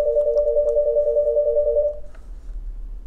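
A telephone rings with a steady electronic tone that holds for about two seconds, then cuts off and leaves a low background hum.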